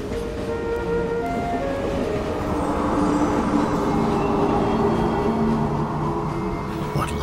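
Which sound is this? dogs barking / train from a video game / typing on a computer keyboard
train from a video game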